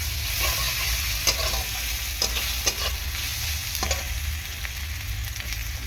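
Ground cumin is stirred and fried in a pan for a fish curry with pumpkin and potato, giving a soft continuous sizzle broken by several sharp scraping stirs of a utensil against the pan.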